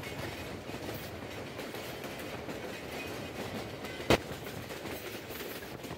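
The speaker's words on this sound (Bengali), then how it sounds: "গাজীপুরের কাউরাইত রেল স্টেশন অতিক্রম করতে করতে আমাদের সাথে দেখা হয়ে গেল দেওয়ানগঞ্জ বাজার থেকে ছেড়ে আসা ঢাকা অভিমুখী 52 জামালপুর কমিউটারের সাথে।" The Tista Express train crossing the Jamalpur Commuter near Kaorait station in Gazipur, Bangladesh, a steady loud rumble with rhythmic wheel clatter and one sharp metallic bang partway through, heard from onboard.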